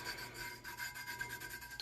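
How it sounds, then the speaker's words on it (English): A burnishing tool rubs a vinyl cut down onto a tumbler in a steady, close scraping rasp. The strokes are soft and continuous, with no voices. "I do want to burnish this."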